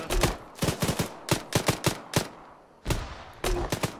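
Gunfire in a military video game, rapid loud bursts of close automatic shots in clusters with short gaps, sharp and punchy against a quiet background.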